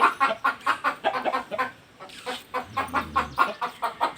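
Chickens and a rooster at a village home cluck in a quick, steady series of close, repeated calls, with no other sounds over them.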